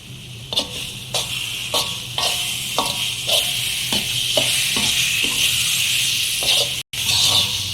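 Karunai kizhangu (elephant yam) mash is stirred in bubbling sesame oil: about a dozen evenly spaced scraping strokes ride over a constant close sizzle.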